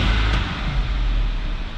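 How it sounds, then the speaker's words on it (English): Steady, loud idle of a 2012 Infiniti QX56 engine running at a wrecking yard, a constant low rumble heard close and alone. "Nice good run of motor though"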